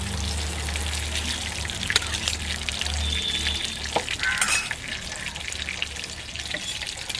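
Chicken skin frying in hot oil for ghugni gives a steady broadband sizzle with soft crackles and a few sharper pops, continuous and close, with no talking.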